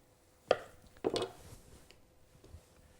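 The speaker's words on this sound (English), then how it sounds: "cut it into little strips" Knife cutting sweet potato gnocchi dough into strips on a floured table, giving two soft distinct chops close by with faint scraping after, quiet overall.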